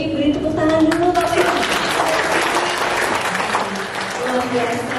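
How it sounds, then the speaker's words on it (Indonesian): An audience of parents claps for a presenter at a school parenting seminar in Palembang, Indonesia, a dense, even applause lasting several seconds with some voices and tonal sound mixed in beneath it. "Beri tepuk tangan dulu Pak."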